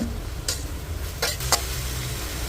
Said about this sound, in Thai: แล้วก็ ผัดต่อไปเรื่อยๆจนกว่าถั่วลันเตาจะสุก